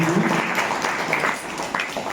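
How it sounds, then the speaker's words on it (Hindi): An audience at a school award ceremony for Subhash Chandra Bose Jayanti applauds loudly, with dense, fluttering clapping that swells and dips slightly. A faint voice briefly sounds near the start. "जोरदार तालियों के साथ"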